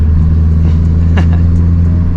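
A Stage 2 tuned Mazdaspeed 3 turbo engine drones loudly from inside the car while driving, a steady low hum with brief turbo whooshes and flutters cutting through.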